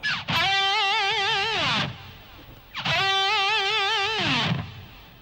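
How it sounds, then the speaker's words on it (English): Two sustained distorted electric guitar notes, each wobbling with a fast, wide vibrato before sliding down and cutting off. "You can also add like a fairly quick vibrato in there as well,"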